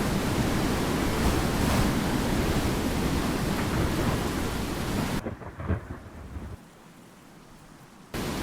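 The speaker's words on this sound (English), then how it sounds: "This tornado is strong." Tornado wind and thunder in the storm-chasing video game Twisted: a loud, continuous roaring rush of wind and rain that suddenly drops away to near quiet, then abruptly returns.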